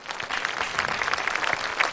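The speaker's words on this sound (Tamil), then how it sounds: "ஒரு ஸ்பெஷல் கைத்தட்டல்" On a television singing contest stage, a studio audience claps briefly, a quick burst of dense, even applause at moderate volume.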